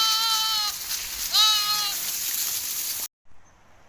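Young lambs too weak to walk, penned together on a Nepali sheep-herding farm, give two clear, close, wavering bleats with a short gap between them, then the sound cuts off abruptly.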